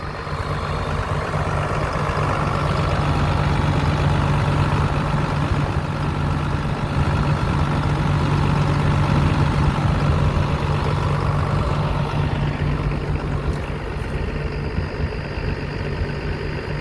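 A heavy diesel tractor engine idles steadily nearby in a field while warming up, a constant low rumble with a droning hum that barely changes throughout.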